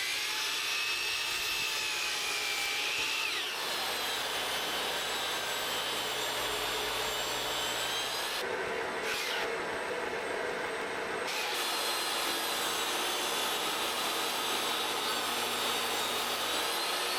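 A power saw whines steadily through wood boards for a homestead greenhouse build in South Texas, the tone dropping and shifting as the blade bites, with a brief break partway through; loud and continuous, no speech.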